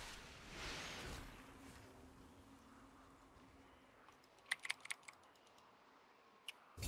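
A computer keyboard clicks faintly in a quick run of keystrokes, followed by one lone tap, heard during a League of Legends gaming session with a soft background hiss.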